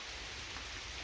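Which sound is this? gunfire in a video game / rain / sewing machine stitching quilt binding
rain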